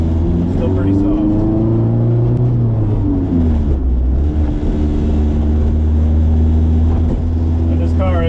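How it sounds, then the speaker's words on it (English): A Honda-powered Mini Clubman Estate drives along with a loud, steady droning engine and exhaust note that rises and falls slightly as it runs, the noise close and constant throughout. "And this car is a bit loud."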